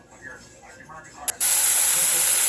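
Onions hit hot oil in a pan with a sudden loud, steady sizzle that starts partway through and fills the rest of the clip after a quieter stretch.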